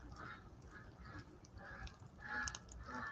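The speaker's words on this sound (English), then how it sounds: "Oh, the ducks are getting freaky at night." Ducks quack and honk at night outdoors near a fireside, faint and somewhat distant calls scattered unevenly over a low background hum.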